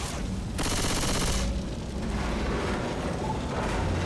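Dense automatic gunfire in the video game Left 4 Dead 2, a loud sustained rattle of rapid shots with a brighter burst early on, close and continuous with no speech.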